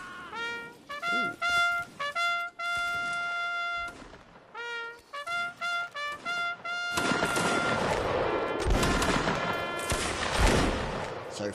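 Musket volleys in a Napoleonic Wars line battle: rapid scattered shots crackle among sustained tonal horn or drum notes, then build into a dense, continuous roar of massed fire in the second half.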